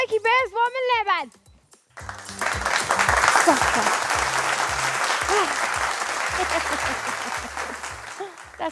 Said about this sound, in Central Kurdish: ئێستا چەپڵێکی بێز بۆ من لێبن